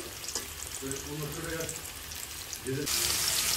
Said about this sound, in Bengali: দুই সাইডে খুব ভালোভাবে এরকম উল্টে পাল্টে ভেজে নিতে হবে